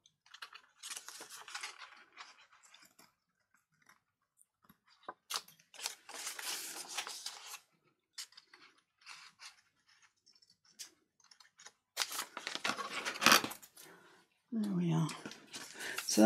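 Scissors snip through pieces of paper for an altered file folder, producing bursts of crisp cutting strokes with pauses between them, close and fairly clear, with some quiet speech at moments.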